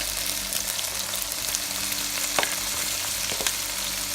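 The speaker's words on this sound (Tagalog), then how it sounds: "Lalagay ko na po yung onion, garlic. Now, yung tomatoes po." Onion, garlic and tomatoes fry in a pan for a pork picadillo, making a dense, continuous sizzle over a low hum, with a couple of short clacks from a utensil and no speech.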